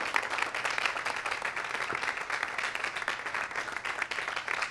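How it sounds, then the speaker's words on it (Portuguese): A crowd applauds steadily, with many hands clapping in a dense, continuous patter that holds its level throughout. "Salva de palmas para Maestro, Ladilson, Colo Atremura, Rafa"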